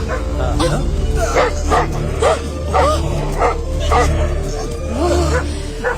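A dog barks and yips repeatedly in close, loud bursts mixed with high whimpers, under a dense background din that may include voices.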